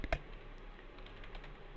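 Typing on a computer keyboard at a terminal, a few faint, scattered key clicks after one sharper tap at the start, quiet with no voices.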